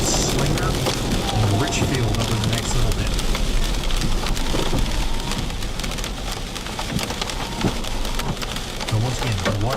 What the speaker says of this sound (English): we've got an insane storm coming through here